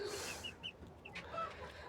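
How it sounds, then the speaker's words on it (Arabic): A rooster on a rooftop gives a few short, bright calls and clucks close by, spaced irregularly over faint background noise. "سامعه حس الديك"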